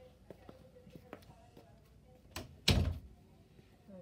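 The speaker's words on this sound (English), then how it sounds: "Let me close the door." An indoor door is pushed shut with a single solid thud near the end, after some faint handling clicks and taps.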